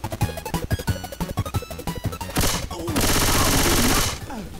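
Gunfire in Left 4 Dead 2: a quick string of close, punchy shots, then a dense, roaring burst of sustained fire that cuts off abruptly.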